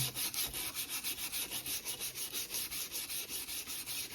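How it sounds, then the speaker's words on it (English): Repeated back-and-forth sanding strokes on the metal rails of American Flyer S gauge model train track, a steady rhythmic scrubbing at close range, roughly five strokes per second with no talk. "we'll have to sand this at least 2 or 3 times to get everything good and clean"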